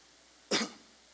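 A single sharp cough from a man preaching a church sermon, close and brief, standing out clearly against a quiet room.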